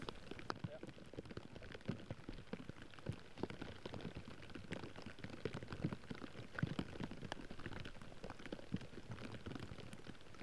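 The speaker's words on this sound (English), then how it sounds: "It's always tough when it starts to rain." Rain patters steadily at an outdoor disc golf tournament round, a faint even hiss of scattered drops on surfaces throughout.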